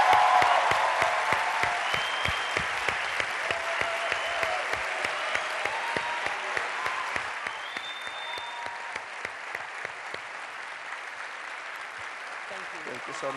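A large audience at Bibliotheca Alexandrina applauds steadily for over thirteen seconds to welcome Martin Scorsese, the dense clapping gradually thinning and softening toward the end.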